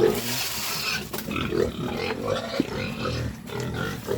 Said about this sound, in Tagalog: Ang baboy karon.